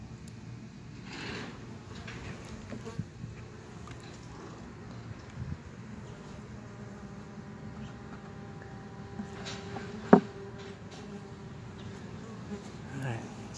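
A low, steady buzzing of many honey bees at a nuc hive fills the background, with a soft hum throughout and a brief sharp knock partway through.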